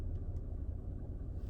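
A vehicle pulls up toward a parking area with a low, faint engine rumble and no talking.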